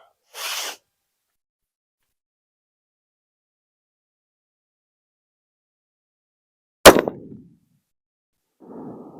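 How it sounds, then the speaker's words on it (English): One sharp, loud crack from a scoped firearm shooting at steel plates, with a short decaying tail. It stands out against near silence, framed by a couple of brief faint noises. "Time to get some ammo fed into this thing. And we'll start shooting."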